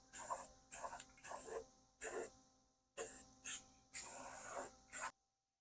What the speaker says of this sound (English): I'm going to go ahead and coat everything with a nice fresh coat of paint